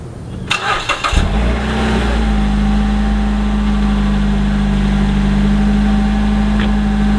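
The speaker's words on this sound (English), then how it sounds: "now I'm gonna show you guys the final cold start on a stock exhaust" A Mazda 3 engine on a stock exhaust cold-starts, cranking briefly, catching and roaring to life, then settles into a loud, steady high idle with a deep exhaust drone.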